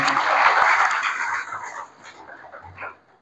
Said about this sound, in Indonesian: Ini juga tepuk tangan untuk Pak Hasim.